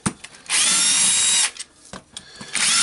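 A power drill backs screws out of a Dewalt D25831 SDS plus rotary hammer in two close, whining bursts, with short pauses and handling clicks between them.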